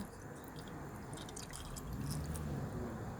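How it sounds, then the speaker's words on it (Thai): A fresh lime is squeezed by hand, giving soft wet squishing and faint juice drips in a quiet close setting, with no talking. "เนี่ยค่ะบีบสดๆนะคะ"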